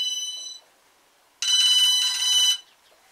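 An incoming call's phone ringtone chimes indoors in two bright electronic bursts separated by a short silence, fairly loud and alone.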